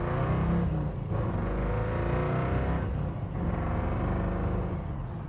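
A 1933 Ford 3 Window Coupe street rod drives along, its engine giving a steady, close, deep rumble that swells and eases slightly as it rounds a corner, with no talking.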